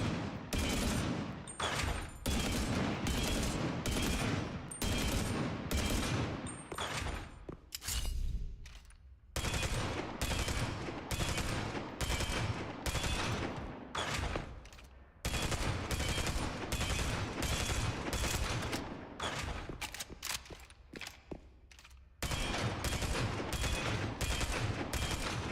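A light machine gun fired in a video game, long loud bursts of rapid automatic fire that run for several seconds each, separated by short pauses, with the rate appearing to climb during the bursts.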